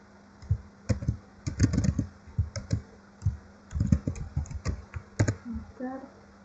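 Keys clatter on a computer keyboard in irregular bursts, with the Enter key struck between groups of keystrokes, loud and close over a faint low hum, while a voice talks quietly underneath.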